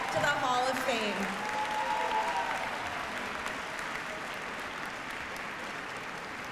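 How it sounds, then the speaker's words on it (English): An audience applauds for newly inducted Hall of Fame members at a school homecoming ceremony. Broad, steady clapping fills a large room at moderate level and slowly thins out, with a brief voice heard near the start. "How about a big round of applause for our newest members to the Hall of Fame."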